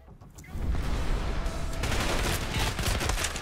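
Rapid, dense gunfire from the video game Trepang2, a gory first-person shooter, bursting in loud about half a second in and continuing as a sustained fusillade to the end.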